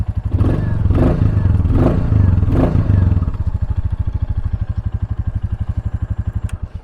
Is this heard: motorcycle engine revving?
yes